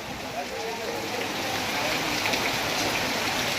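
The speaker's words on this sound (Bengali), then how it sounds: "চরম বৃষ্টি শুরু হয়ে গেল কিন্তু।" Heavy monsoon rain pours down at a flooded village market, a dense, steady hiss of drops on water and surfaces filling the whole clip at an even loudness.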